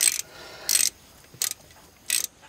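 A ratchet wrench clicks in four short bursts while tightening bolts on the front wheel bearing of a 2008 Chevy Impala, close and crisp with quiet pauses between strokes.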